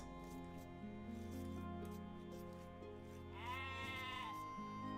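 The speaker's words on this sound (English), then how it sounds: "Finding more goats." A goat bleats in the Age of Empires II strategy game, a short wavering cry rising over a busy bed of game sounds and music, fairly clear and alone without speech.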